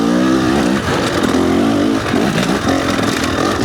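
Loud, close enduro motorcycle engine droning while riding on a spine trail, its pitch rising and falling with throttle changes and short dips as the rider shifts, continuous without talk.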